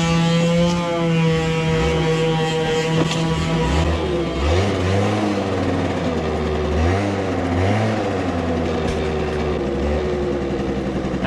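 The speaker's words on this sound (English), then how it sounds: "I heard the sound of 2 strokes." Two-stroke scooter engines rev and idle nearby, a steady buzzing drone with rising and falling pitch as the throttle is blipped several times, loud and continuous with no talk.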